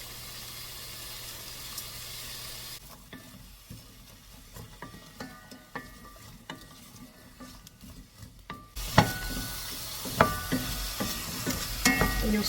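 Onions with a pinch of salt sauté in a pan for a veggie curry, a close steady sizzle with stirring scrapes and clinks that grows louder and brighter toward the end.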